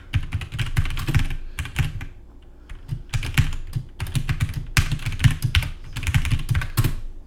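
Rapid, steady clatter of a computer keyboard as code is typed, with dense runs of close keystrokes broken by a few short pauses. No speech.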